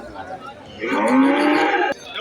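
A cow lets out a loud, drawn-out moo close by at a cattle market in Valliyoor, Tirunelveli, with faint background noise before and a sharp knock near the end.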